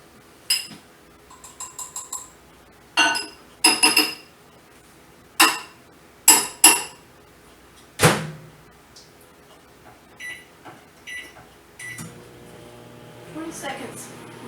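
Peanut butter buckeye mixture is stirred in a bowl, a series of sharp clinks and scrapes of a utensil against the dish in uneven bursts, close by, with a person talking in between.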